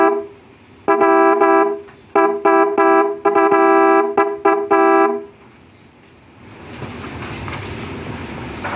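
A Mitsuba Dolce car horn sounds in a series of bright, harmonic blasts, one short and several longer, rapid and close, followed by a steady rushing background hiss.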